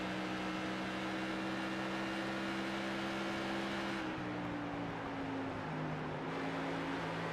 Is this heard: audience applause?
no